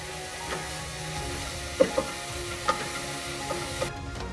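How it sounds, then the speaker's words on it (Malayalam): Kangaroo meat frying over a high flame: a steady, close sizzle broken by a few sharp utensil clinks and stirring knocks, with no one talking. "ഇത് ഹൈ ഫ്ലെയിമിൽ ഇട്ട് വേണം ഫ്രൈ ചെയ്യാനായിട്ട്"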